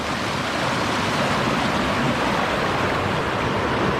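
River water rushes steadily through an eddy on a hot summer day, a dense, continuous wash that stays loud and unbroken throughout.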